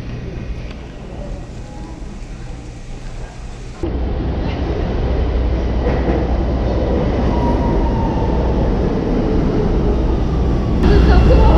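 A Chicago subway train rolls along with a loud, steady rumble and rattle, getting louder partway through as the ride continues.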